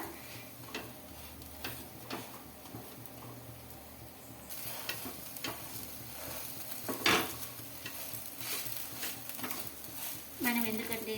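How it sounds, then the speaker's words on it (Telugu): Aloo paratha fries in oil on a pan, a soft sizzle running throughout with intermittent scraping and pressing clicks, growing louder midway, while a person speaks. "ఇలా ప్రెస్ చేసుకుంటూ మనం బాగా కాల్చుకోవాలి రెండు వైపులా"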